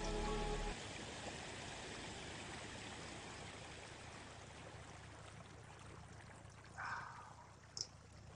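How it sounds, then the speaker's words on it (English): A waterfall in a metaverse virtual world hisses as a steady, soft rush of falling water, with a faint splash and a brief chime near the end. "sitting right here under the waterfall, letting it hit my back and relax"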